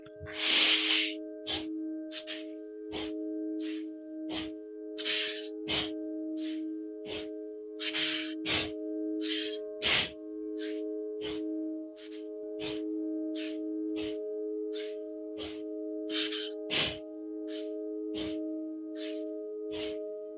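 Deep, forceful breaths of a breathwork exercise repeat steadily for about twenty seconds, each inhale and exhale a close, hissing rush of air over a constant low tonal drone of background music.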